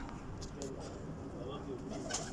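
Champion breeder pigeons coo continuously nearby in soft, throaty rolls, with a few sharper chirps and a low murmur of activity around them.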